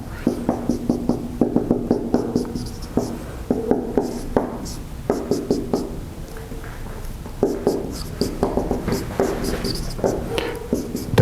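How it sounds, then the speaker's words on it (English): Rapid, scratchy strokes of chalk or marker on a board during a lecture, irregular bursts of short taps and drags close by, with no talking. "let me briefly write this"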